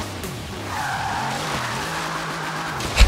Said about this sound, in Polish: Ja sobie będę driftował.